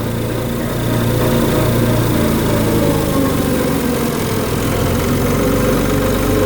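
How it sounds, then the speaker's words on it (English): A tractor engine idles and rumbles continuously while rolling downhill, loud and close, with a low droning hum and no voices. "This tractor will hold itself back."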